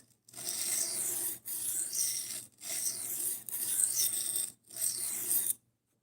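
Burr being stripped from a knife edge, four steady rasping strokes of abrasive rubbing against steel with brief pauses between, close and fairly quiet, no voices.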